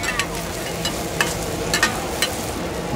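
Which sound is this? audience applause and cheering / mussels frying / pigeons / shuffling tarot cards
mussels frying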